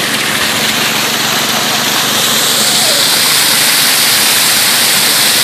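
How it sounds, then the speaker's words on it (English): Steady rushing water pours continuously off the end of a highbanker sluice during gold prospecting, a broad hiss of flow that fills the whole clip without pause, loud and close. "the water that's flowing down off the end of the sluice"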